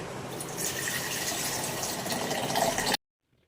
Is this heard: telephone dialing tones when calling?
no